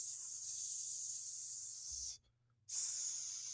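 A voice mimics air hissing from a leaking airbag on a box truck, a steady breathy hiss held for about two seconds, broken by a brief pause, then resumed just as strongly.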